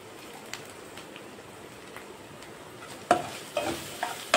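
Cut green chillies dropped onto frying onions in a pan, a soft steady sizzle with clinks and scrapes of stirring growing louder toward the end.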